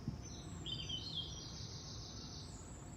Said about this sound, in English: Behind me I can hear the birds as always.